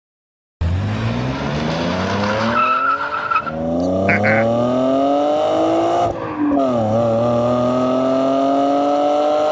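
A six-cylinder BMW-like car engine driven hard, loud and close, revving up in long rising pulls with audible intake noise, briefly dipping between gear changes before climbing again.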